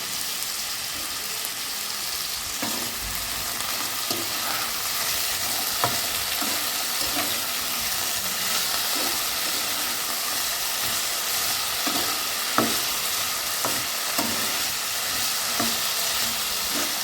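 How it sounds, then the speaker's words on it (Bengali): Potato pieces fry in a pan for Bengali aloo posto, a steady soft sizzle with repeated scraping stirs of a spatula at irregular intervals, close and alone without talk. "এবার আলুটাকে আপনারা ভাজতে থাকবেন।"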